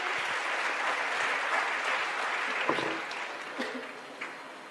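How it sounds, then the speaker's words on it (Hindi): An audience at a Sanatan Sammelan gathering in Karauli gives a warm round of applause to welcome a senior social worker, steady clapping that thins out and fades toward the end. "एक बार जोरदार तालियों से स्वागत करेंगे।"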